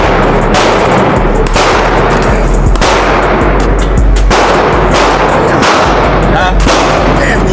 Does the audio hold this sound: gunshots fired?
yes